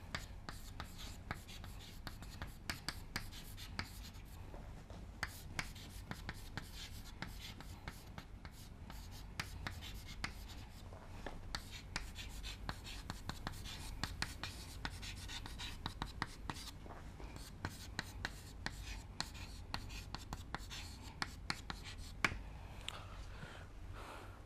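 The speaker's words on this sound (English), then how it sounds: "let me write that down for your clarification." Pen or chalk writing a note during a lecture on virtue ethics, a steady run of faint scratchy strokes and taps continuing throughout with low room hum beneath.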